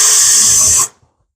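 Self-drilling screws being driven down through the top of a post cap with a power driver, a loud steady high whine that runs alone for under a second and then cuts off abruptly.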